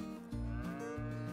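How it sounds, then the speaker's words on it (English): Cattle in Farming Simulator 22 let out several loud, drawn-out moos in succession, close by and with no talking. "Look at all these moo cows over here, man."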